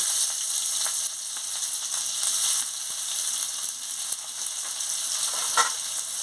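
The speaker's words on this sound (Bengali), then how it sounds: "পেঁয়াজটা দিয়ে ভালো করে ভেজে নিচ্ছি" Steady, bright sizzling of onions frying in hot oil for a fish curry, continuous throughout with a few faint clicks of stirring.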